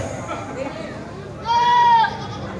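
A female Kaligesing PE goat at a livestock contest in Banjarnegara gives a single wavering bleat, loud and close, while someone talks over a busy, noisy crowd.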